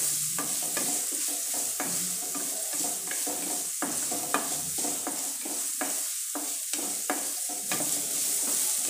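Finely chopped onion fries in a pan for poha, a continuous soft sizzle punctuated by frequent rhythmic clicks and scrapes of a spatula stirring, close and steady with no talking.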